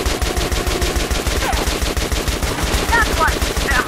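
Machine gun fire during a swamp boss fight in the video game Metro Last Light: rapid, sustained automatic bursts with a steady pounding rhythm, loud and close throughout.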